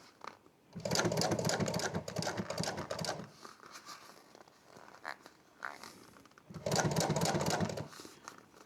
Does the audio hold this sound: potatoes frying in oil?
no